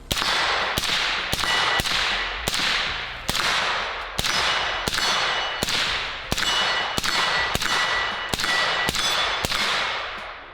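A short-barrelled 6.8 SPC rifle with a 10.3-inch barrel fires a string of about fifteen sharp, loud outdoor gunshots in a steady rhythm, each crack followed by a brief decaying echo, emptying the magazine.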